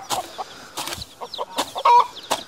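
A hen, apparently a first-time mother with chicks, clucks in short, scattered bursts at close range, with quieter rustling between calls.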